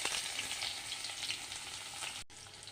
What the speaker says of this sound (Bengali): লাল লাল করে ভেজে নিয়েছি পেঁয়াজগুলি।